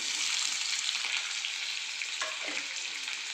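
Onion and garlic fry in hot oil with reddened peanuts for a tempered rice dish, a loud, close, continuous sizzle with a few stirring scrapes near the end and nobody speaking.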